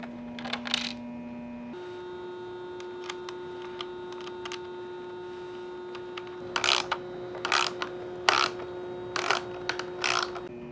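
A ratchet tightens a lock nut and washer onto a bolt to secure a relay during a FIRST robotics Wild Thing conversion. Quiet clicking comes in several short bursts over a steady background hum.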